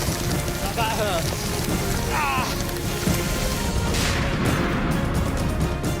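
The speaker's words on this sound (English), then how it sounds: "Out in a hailstorm like you have never seen." Dense hailstorm pelting down hard, a constant loud rattling patter of hailstones striking surfaces all around, with brief voice-like sounds faintly audible beneath it.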